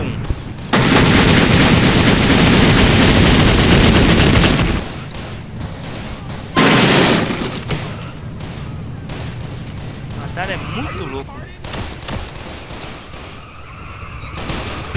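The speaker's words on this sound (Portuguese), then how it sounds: "Destrói tudo, ó, explode tudo." Explosions from a Madara Uchiha jutsu mod in GTA San Andreas, with a long loud roaring blast, a second short burst and then lower rumbling and debris. Game speech is heard under them.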